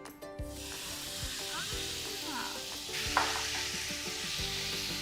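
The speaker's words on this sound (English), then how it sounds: "When you hear the sizzle voice, Then it's ready." Marinated pork sizzles steadily in hot oil on a gas stove, a close, constant crackling hiss with a few clinks of utensils and a brief louder spatter partway through.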